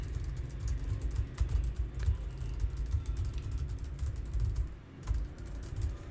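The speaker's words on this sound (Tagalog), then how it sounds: "So try ko kung maririnig yung ating keyboard." Someone types steadily on a computer keyboard, picked up through a budget Fifine K678 USB microphone, with rapid irregular key clicks continuing for several seconds at close range over low room rumble.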